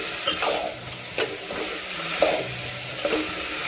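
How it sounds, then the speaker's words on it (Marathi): Drumstick pods tossed with about a spoonful of salt in a pan for a dry vegetable dish, giving repeated scraping stirs with soft sizzling in between, close and moderately loud, with no talking. "बघू शकता मीठ टाकल्यानंतर याला छान मिक्स करून घ्यायचं आहे."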